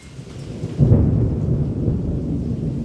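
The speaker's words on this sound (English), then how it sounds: "I like the sound of that thunder, don't you?" Rolling thunder from a thunderstorm, a deep rumble swelling suddenly and then sustained, loud and close, with a faint wash of rain beneath it and no talking.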